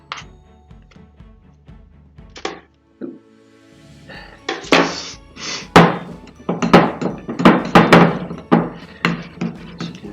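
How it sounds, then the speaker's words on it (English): A spoon works margarine, butter and sugar together in a small bowl for a Christmas cake, producing a string of loud, irregular clunks, knocks and scraping thuds against the bowl, sparse at first and then rapid and busy. "using the back of the spoon to combine the margarine with your butter and your sugar together"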